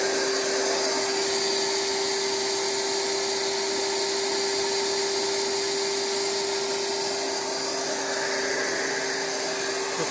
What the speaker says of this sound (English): And then you got your vacuum motor.